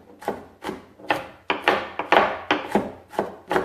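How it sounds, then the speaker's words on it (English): A knife dices fennel on a wooden cutting board, giving about nine firm, evenly spaced chops at a steady rhythm, close and fairly loud with no talking. "I'm just dicing it about the same size that I would an onion."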